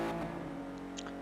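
A Porsche engine in Need for Speed Porsche Unleashed, on the Monte Carlo course, holds a steady, sustained note with strong low harmonics through the whole moment, loud and close, with no voices.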